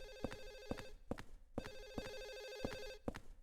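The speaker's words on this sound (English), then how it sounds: "That phone just keep on ringing." A telephone rings in the survival horror game Silent Hill 4: The Room, with repeated electronic bell bursts in a steady rhythm, fairly faint and heard alone.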